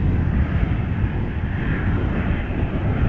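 Airliner on its second landing attempt after a go-around at Amsterdam Schiphol Airport, a steady, loud, broad engine roar that holds throughout with no talk.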